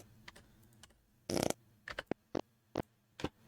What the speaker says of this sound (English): That way we have a more accurate fart noise.